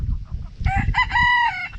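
A fighting rooster crows loudly and close, a single drawn-out cock-a-doodle-doo rising in bursts over low rumbling background noise.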